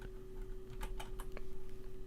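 Light tapping on a computer keyboard, a short run of scattered soft keystrokes with a steady background hum and no talking.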